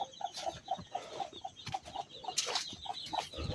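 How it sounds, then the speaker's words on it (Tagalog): Several chickens cluck in a busy, overlapping rhythm, moderately close, with faint outdoor background noise. "Maraming manok lang."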